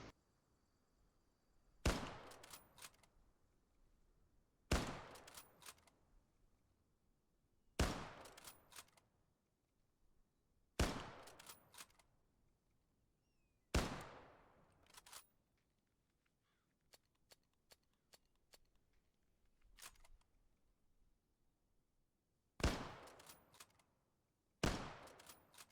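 A scoped Mosin Nagant bolt-action rifle in Arma 3 fires eight sharp, loud single shots spaced a few seconds apart, each followed by a short decay and mechanical bolt clicks between shots.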